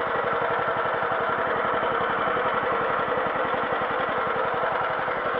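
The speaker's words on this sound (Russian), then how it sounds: "Отзывчивость на газ у этого мотора просто идеальная." Small engine of a Muravei 2 motor scooter runs at a steady, close, continuous drone with an even rapid pulse and no change in pace.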